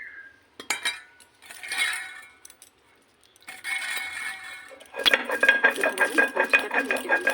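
Spice masala and black mustard seeds being mixed by hand in a bowl for paturi, with scattered metallic clinks and scrapes that grow into a dense, steady run of stirring and scraping near the end.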